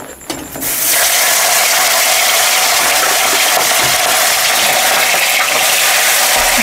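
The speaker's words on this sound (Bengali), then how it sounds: "তেল গরম হয়ে গেছে, এবার আমি মাছগুলো দিয়ে দেবো এক এক করে।" Fish coated in turmeric and salt fries in hot oil, a loud, dense, continuous sizzle that bursts in after a brief quieter moment and holds steady throughout, with no voices.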